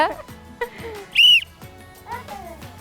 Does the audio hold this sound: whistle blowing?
yes